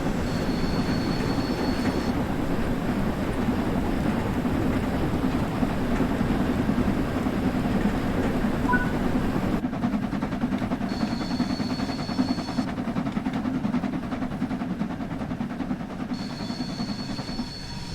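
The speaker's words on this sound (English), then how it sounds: "Now that the locomotive is moving, you can open the regulator some more." An LMS Stanier Class 8F steam locomotive in Train Sim World 3 rumbles steadily while picking up speed, with a rhythmic chuffing texture and an intermittent high whistle-like tone, continuous and fairly distant, no voices.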